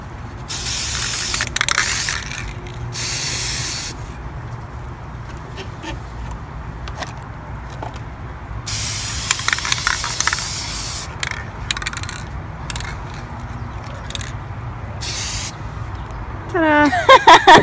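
Aerosol spray hisses from a can in several bursts of a second or two each, with short gaps between, set against quiet room noise and a little background talk.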